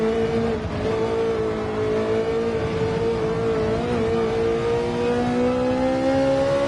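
Ferrari 458 engine in the Gran Turismo 7 video game, a loud continuous high-pitched wail with clear harmonic tones that slowly climb and dip as the car accelerates and holds revs, with no talking.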